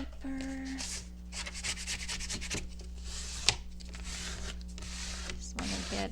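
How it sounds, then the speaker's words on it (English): A scraper rubs over glued collage paper in a journal, giving soft, repeated scraping strokes over a steady low background hum. "There's my scraper."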